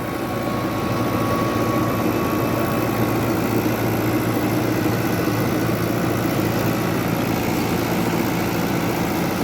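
A New Holland Fiat 640 tractor, a 75 hp 2018 model, runs with a 54-blade rotavator, its engine a steady, loud drone that holds from start to finish with no speech.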